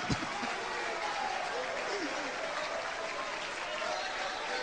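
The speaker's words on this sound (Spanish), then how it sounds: "Paren los aplausos, hermano." A church congregation applauds during a sermon, dense sustained clapping filling the room at steady loudness, with a voice speaking over it.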